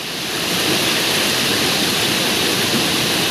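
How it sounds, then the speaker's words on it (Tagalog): Cold mountain water rushes steadily near a hydroelectric power plant in Sorsogon, Bicol, where a child wades in the stream; the broad, loud flow fills everything with an even roar and no breaks. "Ayan, nagtampisaw ang bata."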